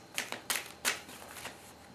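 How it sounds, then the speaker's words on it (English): Quick bursts of shuffling large tarot cards, several short riffling rustles in the first second, then softer scattered flicks, close and fairly quiet. "Pretty difficult to shuffle these cards because they're quite large"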